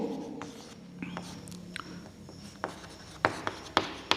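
Writing on a board in a maths lesson, with scratchy strokes and a few sharp taps growing louder toward the end, close, with no talk.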